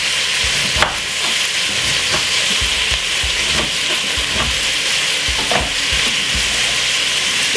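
Cabbage and peppers stir-fry in a hot pan, with a loud, steady sizzle and repeated scraping stirs at close range. Nobody speaks.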